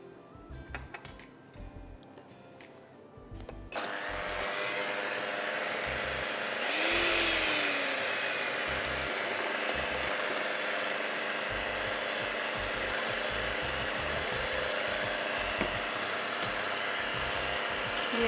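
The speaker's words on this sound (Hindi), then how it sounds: "ये एटलीस्ट 10-15 मिनट्स के लिए उसको बीट करना है" Electric hand mixer beating a dark and milk chocolate mixture with vanilla essence, a steady loud motor whir running continuously after a brief quieter start, with no voices.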